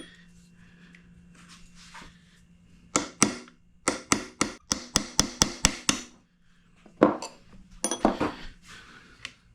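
A tapered pin is driven out of a Vespa smallframe engine case with a series of sharp, close metallic hammer taps, a quick run of about a dozen evenly spaced strikes, then a few more scattered blows, with no talking.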